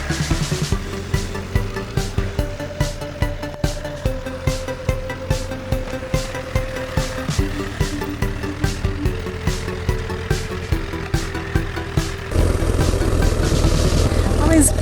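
A Honda CBR1000RR sport motorcycle's engine runs close by with a steady, pulsing idle throb, then grows denser and louder near the end.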